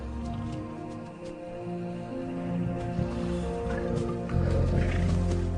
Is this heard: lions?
yes